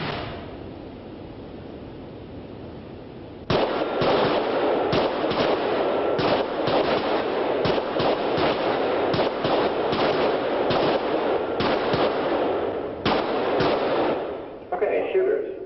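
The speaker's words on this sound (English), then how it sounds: "Okay, when the target's faced, I want you to draw and fire 6 rounds." A pistol fires six rounds on an outdoor shooting range, a string of loud, sharp reports spaced irregularly over steady wind-like background noise, fairly close.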